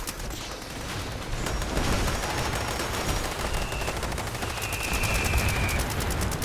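Explosive weapon fire in Fallout 76, a dense barrage of loud, blasting shots that rolls on continuously with crackling bursts layered throughout.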